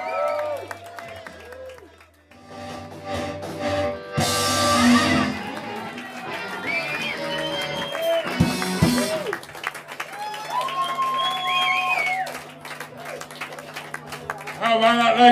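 Audience applause and cheering at an acoustic open mic night, a burst of clapping and crowd noise mixed with talking and music.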